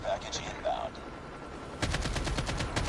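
AK-47 fire in the Call of Duty Mobile video game: a quick burst of rapid shots in the last second, loud and close, following a stretch of quieter game sounds with faint voices.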